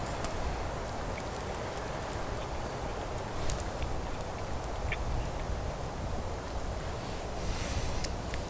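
Geese calling in a pine woodland at a wild camp, several short honking calls scattered over a steady outdoor background, moderately distant with no talk.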